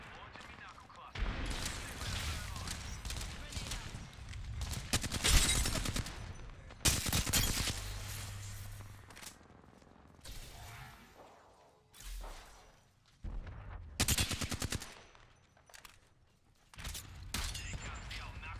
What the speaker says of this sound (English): Launching me knuckle cluster.